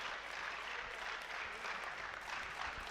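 Audience at the ABU Robocon 2023 national robotics contest applauding a team, faint, steady, continuous clapping from a distant crowd with no clear voices.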